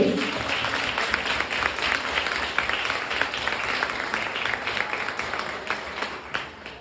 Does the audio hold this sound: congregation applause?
yes